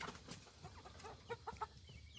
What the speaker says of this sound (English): see all these chickens? See how big they are?